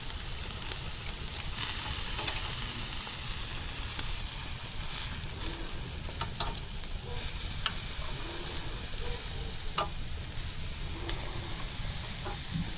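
Chicken sizzling on a hot grill, a steady close hiss and crackle with occasional faint pops and light scraping, continuous throughout.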